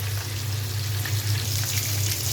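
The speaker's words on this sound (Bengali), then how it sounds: "মাছ ভাজা প্রায় হয়ে গেছে" Fish frying in a pan, a steady, fairly loud hiss and crackle of hot oil throughout with no talking.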